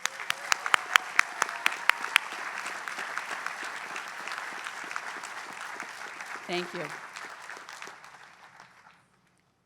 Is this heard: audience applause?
yes